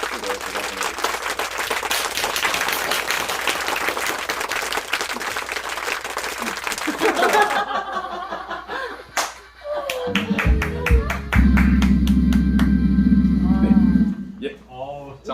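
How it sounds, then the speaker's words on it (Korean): Audience applause at a poetry talk, a dense burst of clapping for the first half, then breaking off into a speaker's amplified voice and microphone noise. "감사의 박수를 제가 보내드립니다"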